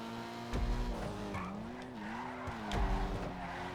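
Dinka Jester RR in GTA skids through corners, its engine droning and rising in pitch between two sharp tire squeals, loud and close.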